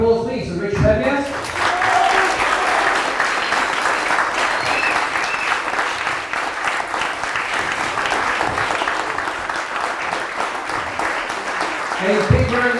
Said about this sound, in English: So before we go, another round of applause, please, for Richard Peppiatt.